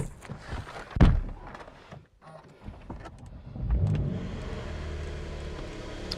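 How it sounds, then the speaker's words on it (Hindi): A car cold-started by a gamer showing his house: a thunk and brief clatter, a pause, then the engine catches and settles into a steady, fairly loud idle hum close by. "चलो दोस्तों एक बार जरा गाड़ी को कोल्ड स्टार्ट कर देते"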